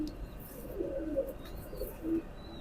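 A teddy pigeon coos softly nearby, low throaty murmurs repeating in short bursts, with a faint chirp or two over quiet room ambience.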